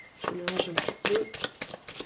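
A deck of tarot cards is shuffled by hand in quick, close, repeated bursts of soft riffling and flapping, with a person talking over it.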